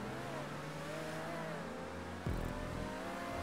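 A car engine revving during a tube racing session in the video game GTA V, a steady engine drone that suddenly surges louder near the end, with no talking.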